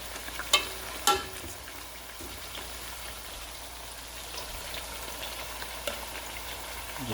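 Thin sweet potato slices fry in hot oil, a steady close sizzle and crackle with a couple of sharp pops near the start, and no voices.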